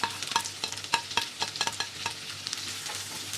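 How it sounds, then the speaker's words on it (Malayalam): Slit green chillies and chopped onion sautéing with ginger and garlic for ginger chicken, a busy sizzle punctuated by rapid clicking spatula strokes against the pan, no talking. "ഇവ ചേർത്ത് വീണ്ടും നന്നായിട്ട് വഴറ്റി കൊടുക്കണം."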